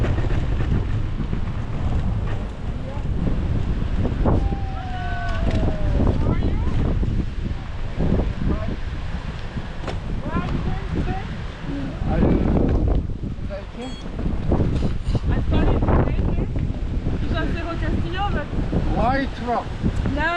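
Strong Patagonian wind buffets the microphone of a touring cyclist for the whole stretch, a loud continuous roar with gusty surges and rattles.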